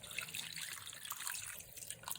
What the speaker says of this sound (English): we're going to submerge it with water